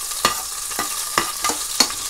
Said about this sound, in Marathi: थोडशा याचा फ्लेवर निघेपर्यंत मी या तेलान या तलून घेतन